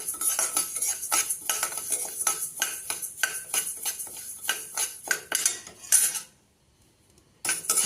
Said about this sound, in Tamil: பாருங்க, அரிசி பொரிய ஆரம்பிக்குது.